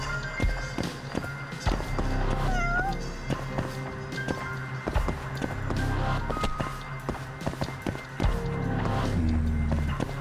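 A house cat meows now and then over a busy bed of game sounds, footsteps and music, the cries short and partly masked.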